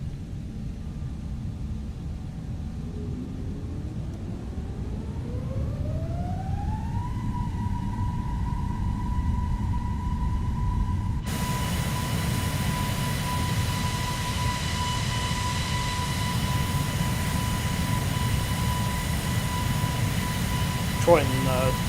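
Simulated aircraft engine spooling up during takeoff in Flight Simulator on PC, a steady drone rising in pitch then holding a loud sustained whine, with continuous broadband rumble throughout.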